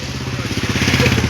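A motorcycle engine runs steadily nearby, its pulsing mid-range throb growing slightly louder toward the end as the bike pulls away.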